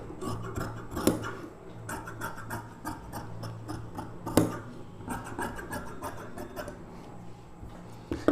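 Scissors snip repeatedly through blouse lining fabric in a steady, close series of short crisp cuts, with a couple of louder snips standing out.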